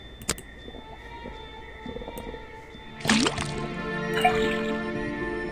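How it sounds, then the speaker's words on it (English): A faucet drips liquid into a cauldron in the video game Detective Grimoire: a few sharp drips, then a louder liquid splash and gurgle midway, fading to soft trickling. "put the sample of liquid into the cauldron, then tap the faucet"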